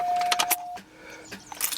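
A 2004 Cadillac Deville that won't start gives a few quick clicks from the starter, close and distinct, with keys jangling and a chime tone in the car.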